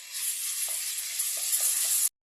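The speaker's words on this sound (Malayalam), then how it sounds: "ഇത് എണ്ണ ചൂടായി നമുക്ക് ഇഞ്ചി വെളുത്തുള്ളി പേസ്റ്റ് ഇട്ട് കൊടുക്കാം" Ginger garlic paste hits hot oil in a pan with a loud, close, hissing sizzle that holds steady for about two seconds before stopping sharply.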